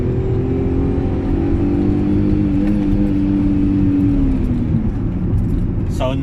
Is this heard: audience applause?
no